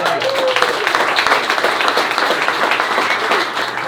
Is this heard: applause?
yes